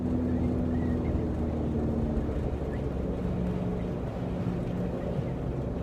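Inside a moving car there is a loud, steady low road and engine rumble, constant throughout with no clear breaks.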